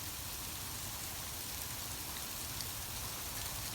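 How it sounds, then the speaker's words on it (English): Hail mixed with snow falls outdoors in Canada, producing a constant, dense patter of small pellets on surfaces, a steady rain-like hiss at close range that holds for nearly four seconds with no voices. "It's hailing in Canada."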